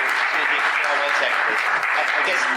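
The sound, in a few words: audience clapping at a public meeting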